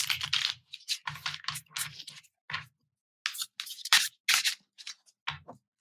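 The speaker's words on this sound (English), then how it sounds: "let's shuffle and pull a card to represent one of our" Tarot cards being shuffled in short, crisp bursts of riffling and sliding, repeated in quick groups separated by brief pauses, fairly close and alone with no talking.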